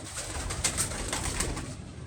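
Soft, low pigeon cooing repeats in a steady rolling rhythm, close by, with no voices.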